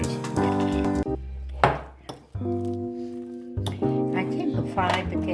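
Japanese potato salad being mixed with Kewpie mayonnaise in a bowl makes soft scraping and clinking of utensil against the dish, with occasional knocks, under a person talking nearby.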